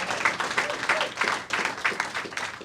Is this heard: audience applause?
yes